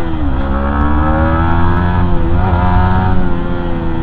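A Yamaha MT-15 motorcycle engine revs hard under throttle with no break, a loud, steady, buzzing roar whose pitch rises and falls slightly as it pulls through city traffic.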